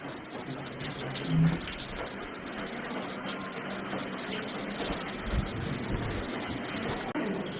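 Steady broadband rushing of wind buffeting the microphone, fairly faint, with a few low thumps and no speech.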